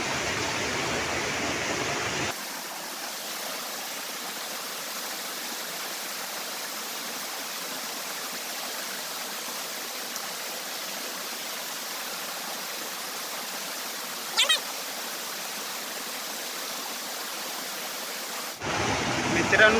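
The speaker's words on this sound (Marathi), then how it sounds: "मित्रांनो वरनं पाणी बघा कसा येत आहे." Water pours down from above during a crab-hunting outing, making a steady, even rush of broadband noise that holds unchanged for most of the stretch, with a brief sharper sound partway through.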